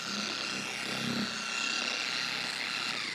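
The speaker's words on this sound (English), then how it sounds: "I'll be spreading the compound with the polisher" A machine polisher running on fourth speed spreads compound over car paint, giving a steady, close whirring hum with a faint rubbing hiss throughout.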